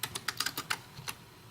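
Quick keystrokes on a computer keyboard, about ten crisp clicks in an uneven burst that slows and then stops, close and clear with no talk.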